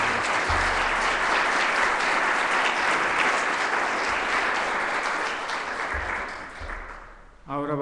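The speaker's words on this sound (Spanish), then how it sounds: "del doctor Jean Meyer, para quien pido un fuerte aplauso." Strong audience applause after a keynote lecture at an inaugural conference, loud continuous clapping from a full hall that fades toward the end as a voice begins speaking.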